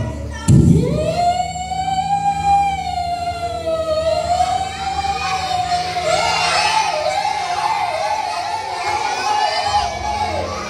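A wailing emergency siren imitated as an ambulance rises and sweeps steadily, loud and close, while a crowd of children cheers and shouts over its later part.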